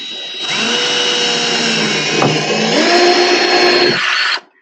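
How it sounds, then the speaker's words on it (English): A cordless drill runs steadily for about four seconds, a loud close whine with a brief dip midway, then stops abruptly. "So I am drilling these holes right here"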